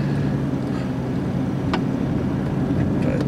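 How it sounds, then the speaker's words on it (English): A vehicle doing burnouts sends out a steady, droning engine rumble that holds at a constant level, with a brief higher whine partway through and no speech. "I've inspired some other people to do some burnouts here."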